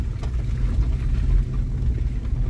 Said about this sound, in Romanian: Vai de biata mașina mea ce trage pe aici!